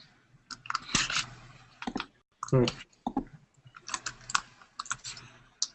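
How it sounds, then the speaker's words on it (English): Rapid clicking of keys on a computer keyboard comes in bursts, loud and close, with people talking over the typing. "is still typing really loud"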